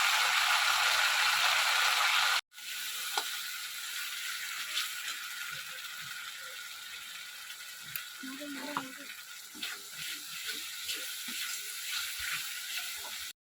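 Ginger and chili paste stirred and fried in a wok, a soft sizzle with scattered scraping clicks of the spatula after an abrupt cut early on, fairly quiet and close.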